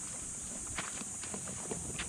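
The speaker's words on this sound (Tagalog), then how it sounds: "Oh, ang ating mga tupa kumakain." Sheep feeding on napier grass silage give off scattered soft crunching, rustling and hoof shuffles against a steady high insect-like hiss.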